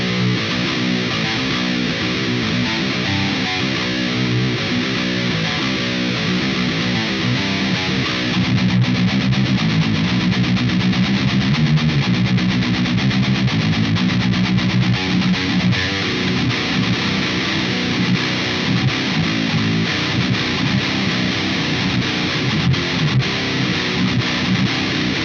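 An electric guitar plays through an Engl Fireball 25 tube amplifier with the controls set around noon, giving a continuous, loud, distorted tone that changes its riffs partway through, with no voice over it.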